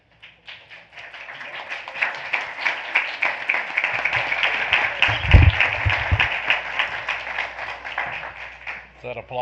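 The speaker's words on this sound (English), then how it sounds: "Is that applause for finding us out there?" Applause at a school board business meeting, scattered clapping building into steady crowd applause for several seconds, with a brief low thump in the middle and speech under it.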